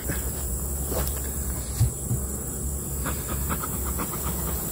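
Honeybees hum steadily around recently requeened hive colonies, a calm, even drone close by with no voices.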